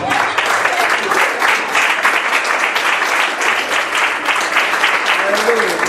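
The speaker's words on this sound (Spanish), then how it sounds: "Vamos a dar un aplauso al Señor." Loud, sustained clapping from a congregation, dense and energetic, with voices mixed in throughout.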